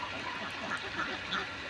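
Ducks on a duck farm quacking faintly at a distance over a steady noisy background, with scattered calls throughout.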